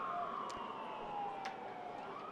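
An ambulance siren wails steadily at a distance near a soccer stadium, its faint rising and falling tone running under a noisy outdoor background.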